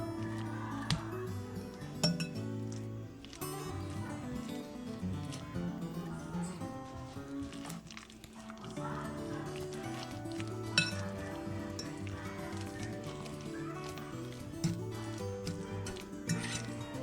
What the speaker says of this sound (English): So I'm just going to smash it up with a fork.